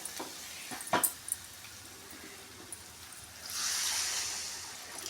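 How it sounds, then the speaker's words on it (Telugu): Water is poured into a pan of chickpeas cooking for curry, a soft hissing splash lasting over a second after a few small clinks and taps, fairly quiet and close. "శనగలు ఉడకాలంటే కొన్ని వాటర్ పోసుకోవాలి."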